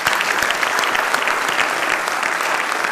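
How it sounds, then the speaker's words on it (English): An audience at a panel discussion applauds a group of innovators, a full sustained clapping from many hands, fairly loud and even throughout. "A big round of applause for these innovators."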